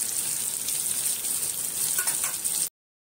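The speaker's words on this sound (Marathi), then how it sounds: "मंद गॅसवर कोणतीही मच्छी फ्राय केली ना तर ती चांगलीच भाजली जाते" Surmai fish fries in a pan over a low gas flame, giving a steady, close hiss and crackle of sizzling oil that runs unbroken before cutting off abruptly near the end.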